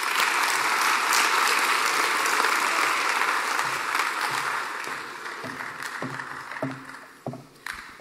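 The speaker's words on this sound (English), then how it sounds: "Nina L. Gilbert a round of applause." A large audience at a college chapel forum applauds an introduced speaker, dense sustained clapping that thins out toward the end into scattered individual claps.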